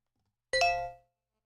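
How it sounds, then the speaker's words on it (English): A phone gives off a single bright chime for an incoming text message, short and clear with a ringing decay, in an otherwise quiet room. "I'm very sorry, that was my phone going off."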